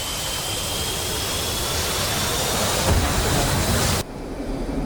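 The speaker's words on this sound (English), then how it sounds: "just hit full power with afterburner, and you should be ready to go" An F-15C jet engine in the DCS game runs at full afterburner, a loud continuous roar that swells slightly before dropping off abruptly near the end.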